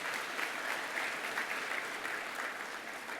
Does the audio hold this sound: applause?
yes